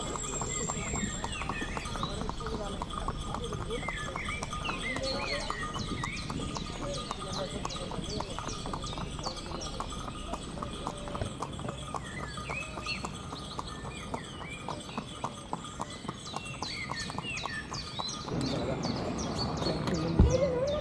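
A horse-drawn tanga carriage moves through Agra, the horse's hooves clip-clopping in a steady, brisk rhythm close by, with birds chirping and occasional voices in the background.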